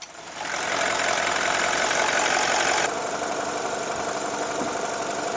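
A BMW N42/N46 four-cylinder engine idles steadily after timing chain work, a close, constant mechanical drone with a faint knocking tick that drops slightly in level partway through, with no talk.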